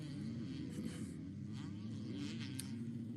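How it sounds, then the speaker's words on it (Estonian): A two-stroke motocross motorcycle engine buzzes faintly in the distance at a championship race, a thin wavering drone under a steady low rumble of crowd and ambient noise. "Seda kahetaktis häält on kuulda"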